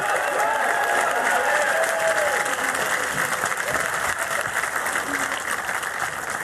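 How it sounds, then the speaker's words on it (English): Steady, loud audience applause fills a snooker arena after the 2024 Grand Prix final between Ronnie O'Sullivan and Judd Trump, a continuous wash of clapping with scattered cheers. "may we have another round of applause for both our finalists"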